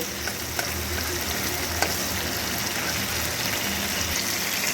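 Tomato fries in oil in a pan for a spicy tangra fish curry, a constant hissing sizzle heard close up with a few faint clicks and spits, and no voices.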